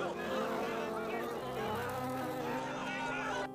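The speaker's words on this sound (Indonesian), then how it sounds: "Saat Hotu datang ke depan kuburan, ia malah disambut kawanan lebah." A swarm of bees buzzing in a continuous dense drone, layered with background music-like tones and no clear voices.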